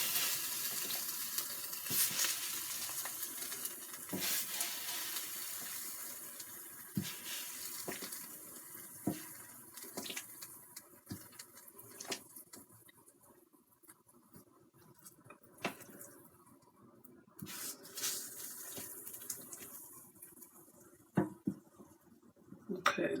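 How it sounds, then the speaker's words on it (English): Lemon pepper chicken wings sizzle in a Cosori air fryer, a close steady hiss broken by scattered clicks and small clatters, swelling and fading in intensity. "Y'all hear that sizzle?"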